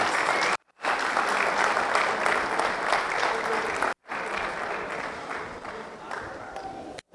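An audience at an academic talk on ethics and politics applauds in steady, dense clapping that fills the room, broken by two brief silent gaps.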